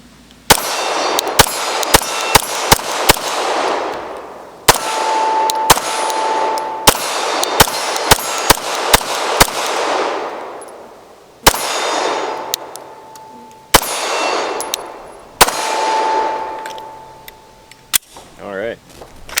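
A Lantac Razorback Glock 17 pistol fires a second magazine at a range: loud, sharp single shots in irregular quick strings with ringing pauses, about twenty rounds in all, with brief speech near the end.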